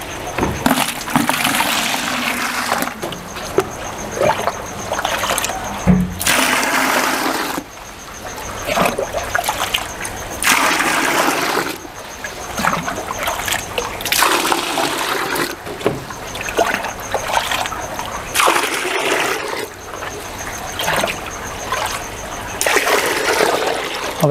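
Water from a fish bag holding peacock bass is poured into an aquarium tank, heard as close, loud splashing and trickling in several bursts separated by brief pauses.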